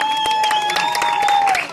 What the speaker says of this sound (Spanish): así que aplaudan más fuerte